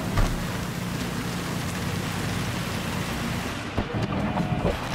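In Cyberpunk 2077 Phantom Liberty, heavy rain pours steadily with a deep rumble of thunder rolling underneath, loud and close, with no voices.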